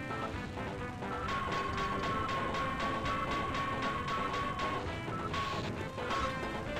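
In the Sven Co-op video game, a wall smashes a player with a loud crashing impact, followed by a sustained run of rapid, repeated pounding hits and an electronic tone. No voices are heard.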